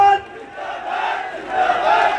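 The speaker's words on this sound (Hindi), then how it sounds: "आप जोरदार तालियां बजाकर एक बार उदयराम जी का स्वागत करें।" A crowd at a political nomination rally in Barmer, Rajasthan gives a loud, close burst of cheering and shouting that swells and dips over a couple of seconds.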